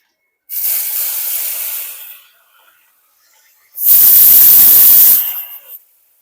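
Chopped onion dropped into hot oil already seasoned with cumin seeds and asafoetida, giving a loud close hissing sizzle; a softer sizzle burst comes first, then a sharper, louder one that fades after about a second.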